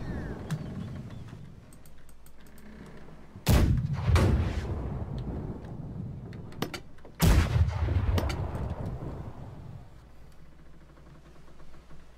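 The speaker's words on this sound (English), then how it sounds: "Right side cannon's ready." Two heavy ship cannon blasts in the game Blackwake boom a few seconds apart, each followed by a rumbling decay, over a low steady engine-like drone.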